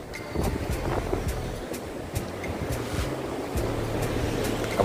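Big ocean waves surging on a windy shore, a steady broad wash of surf and wind noise with occasional sharper splashes, no talk.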